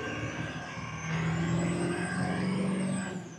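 Ford F250 Dentside pickup with a swapped 7.3 engine, heard from inside the cab while driving: a steady, low exhaust drone through the muffler that rises slightly as it pulls, then eases off at the end.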